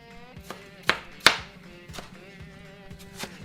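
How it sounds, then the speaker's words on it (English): A knife chops large tomatoes on a board for pickled vegetables, giving a series of close, sharp chops at an irregular pace, two of them noticeably louder, with no talking. "I'm gonna chop 2 large tomatoes also."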